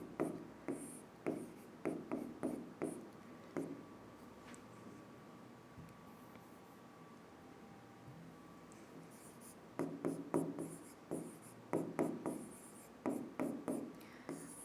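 Marker or chalk writing on a board in a biology lecture, quick bursts of tapping and scratching strokes in two clusters separated by a quiet pause, moderately close.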